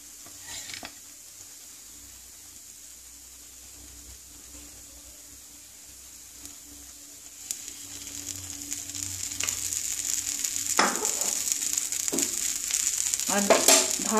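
A potato and lentil-paste snack fries in hot oil. A quiet, steady sizzle swells louder toward the end, with occasional scrapes and clinks of a utensil against the pan, up close and without speech.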